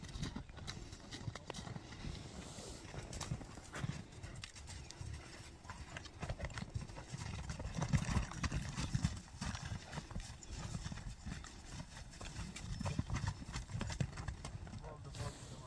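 Hooves of a strong grey horse clip-clop in a fast, steady rhythm, close and fairly loud throughout, with occasional snorts and people talking in the background.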